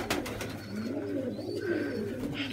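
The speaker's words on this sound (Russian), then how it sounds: "Голуби купаются." Pigeons bathing in Moscow coo softly nearby with low, rolling calls, over a light background hum and faint rustling.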